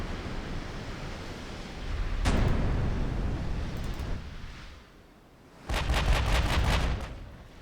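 Heavy naval guns on warships fire in a naval battle in Ultimate Admiral Dreadnoughts. One booming salvo rolls out and fades, and after a lull a second, louder volley of rapid overlapping blasts follows.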